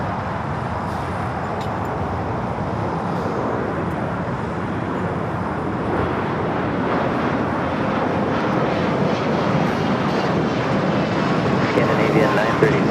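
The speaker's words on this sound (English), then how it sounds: "Hawaiian A321 Neo just touching down here on the south side" A Hawaiian Airbus A321neo touching down on the south side at LAX: a loud, sustained jet roar that holds steady and swells slightly toward the end, with voices talking over it.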